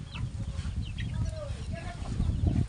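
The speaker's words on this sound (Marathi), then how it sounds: "बघा इथं पण कोंबड्या आहेत." Farm chickens cluck in short, scattered calls near and far over a soft outdoor background, growing slightly louder toward the end.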